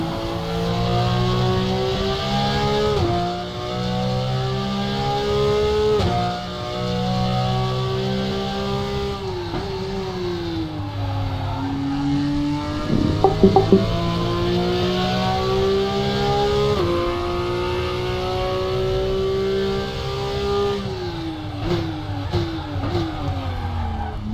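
Porsche 911 GT3 Cup race car at Hockenheimring, engine howling loud and close throughout with repeated upshifts and sharp downshift drops in pitch, the downshift behaving intermittently, a brief crackle mid-run.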